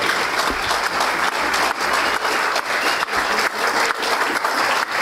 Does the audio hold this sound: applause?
yes